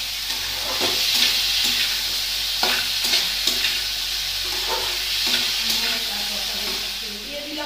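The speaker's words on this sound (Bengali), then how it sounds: "দেখছো ভাজা ভাজা হয়ে গেছে আলুটা।" Potatoes for a curry fry in a pan with a steady hissing sizzle, broken by repeated scraping stirs of a spatula. The sound is close and continuous throughout, and nobody speaks.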